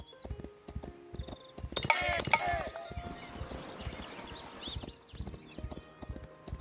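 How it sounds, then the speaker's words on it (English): Horse hooves clip-clop in a steady, rhythmic pattern of close, distinct strikes, with a short whinny-like burst partway through and faint tonal chirps above. "why do I hear a horse?"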